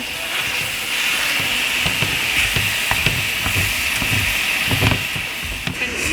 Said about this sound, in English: we're pretty much just gonna brown this turkey in the pan